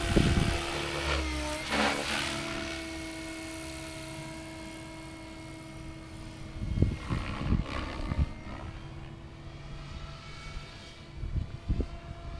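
Goblin 500 Sport RC helicopter flying outdoors, a steady tonal rotor and motor whine that holds throughout, with a few louder bursts and swells as it maneuvers at moderate distance.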